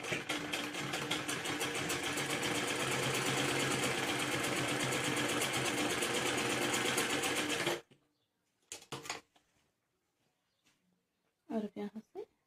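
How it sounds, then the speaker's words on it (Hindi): A sewing machine runs in a steady, fast, close whirring stitch as lace is sewn onto a back neck design, then stops abruptly, followed by a few short handling clatters and brief bursts of sound. "अब इसके ऊपर लेस लगानी है पूरे में"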